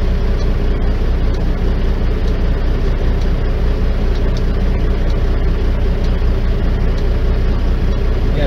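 Oversize-load truck engine droning while driving on the road, a loud steady low rumble heard from the cab, continuous and unchanging with road noise throughout.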